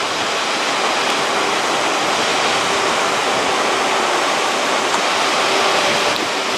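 A waterfall in a green valley in Norway roars with a constant, dense rush of falling water, loud and close, with no break throughout.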